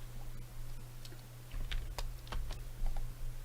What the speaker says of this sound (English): Oh, and I'm banging these keys.